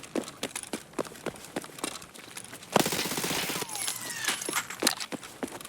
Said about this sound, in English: I heard someone else shooting.